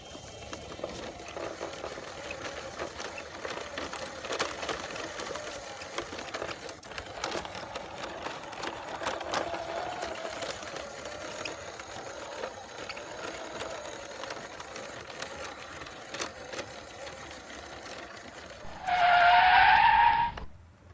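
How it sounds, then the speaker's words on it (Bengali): A hand-pushed toy racing car rolls and whirs steadily across a surface for about twenty seconds, ending in a brief, louder, high-pitched skidding screech near the close; no one speaks. "চমৎকার চমৎকার একটি রেসিং কার। এই কারটিকে এখন আমি ড্রাইভ করব।"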